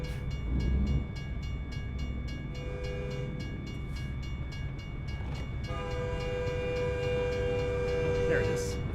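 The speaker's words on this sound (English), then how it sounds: "Guess we're gonna have to wait for the train to go by." Freight train in American Truck Simulator rolling past a crossing, with a steady low rumble of wagons and sustained horn tones sounding over it, fairly close and continuous throughout.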